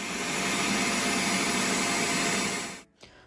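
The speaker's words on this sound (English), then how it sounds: "we also have a shop vac we're gonna use the same time" A shop vac runs steadily, drawing up drywall dust while a hole is cut in a double-thick closet ceiling, a loud continuous whine up close that cuts off abruptly near the end.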